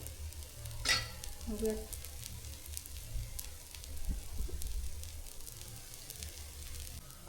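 Slightly thick dosa batter sizzles and crackles on a hot tawa, a steady close frying hiss with faint scraping and small clinks throughout, no talking.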